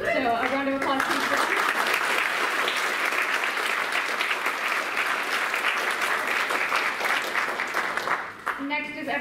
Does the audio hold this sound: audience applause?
yes